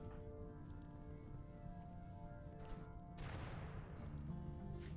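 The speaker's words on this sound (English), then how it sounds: "Oh, wait, we got a rainy thunderstorm." Rain from a thunderstorm in the video game RimWorld, a soft steady patter that thickens into a heavier hiss near the end, faint and alone over a low hum.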